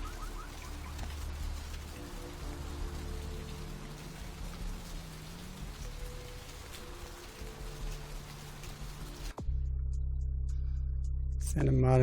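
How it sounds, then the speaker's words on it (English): Steady in-game rain pours down continuously at moderate level for most of the stretch, then cuts off abruptly and gives way to a low ambient hum near the end. "Still raining."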